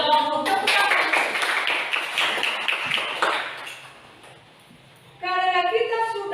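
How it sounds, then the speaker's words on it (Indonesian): A classroom of children applauds together in a dense, lively burst that runs for about four seconds and then fades, before an adult voice begins speaking. "Tepuk tangan."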